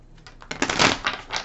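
Quick papery riffling and soft slaps as a deck of tarot cards is shuffled up close, a short burst of crisp flicks.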